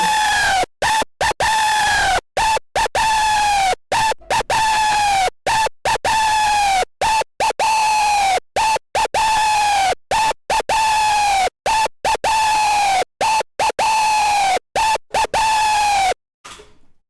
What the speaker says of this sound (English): This already helps creating a little bit of movement for the screech.